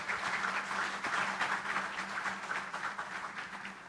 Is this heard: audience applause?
yes